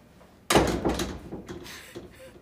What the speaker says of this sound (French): La porte a-tu claqué?